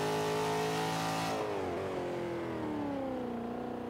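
A B-class 1995 Mustang racing in Forza 5 revs hard, its engine note climbing steadily, then dropping on a shift and climbing again, loud and close throughout.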